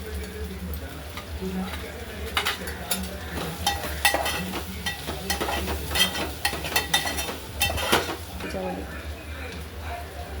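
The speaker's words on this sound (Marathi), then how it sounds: "आता आपण याच्यामध्ये परतून कोथिंबीर घालणार आहोत" Cooked brinjal bharit with coriander is sautéed in a pan, giving a continuous close sizzle of frying with brisk, repeated scraping and stirring strokes and occasional utensil clinks against the pan.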